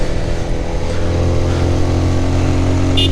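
A Harley-Davidson superbike on a mountain road between Kodaikanal and Munnar, its loud, steady engine rumble droning close by throughout.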